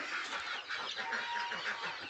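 Hen clucking in a farmyard nesting spot just after laying an egg, a series of soft, faint rhythmic clucks with no talk.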